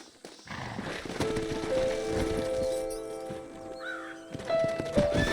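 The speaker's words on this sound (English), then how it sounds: "Horses are over here!" Horses in the Red Dead Redemption video game whinny and clip-clop nearby, with a soft ambient background and a few distant bird calls.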